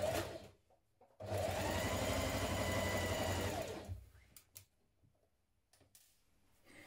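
A domestic sewing machine runs in one steady burst of about three seconds, stitching the 1.5 cm shoulder seam of a classic blouse, with quiet handling noises before and after.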